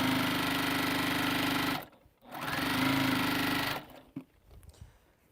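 A sewing machine stitches a quilt in two steady, loud runs of rapid whirring, each stopping abruptly, followed by a few clicks and handling noises.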